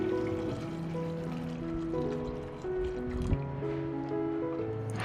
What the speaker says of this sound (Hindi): तो प्रेशर कुकर में चने डूबे उतना हम पानी डालेंगे।